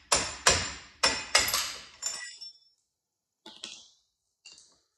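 Metal tapping on Can-Am Outlander ATV brake parts: five or six close, ringing hammer knocks in quick succession, then a pause and two fainter, lighter clinks.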